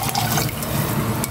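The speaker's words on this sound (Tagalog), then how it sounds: "Maglalagay na ako ng tubig" Water poured into a cooking pot while making sopas, heard up close as a steady liquid pour and trickle with faint splashes, no speech.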